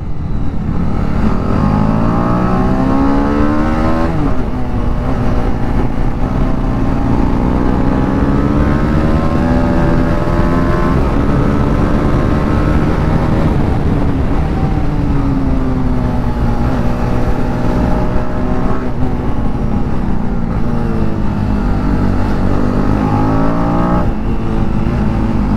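KTM RC390 motorcycle engine revving hard while riding, loud and continuous, with rising and falling pitch sweeps as the throttle opens and eases, no talk over it.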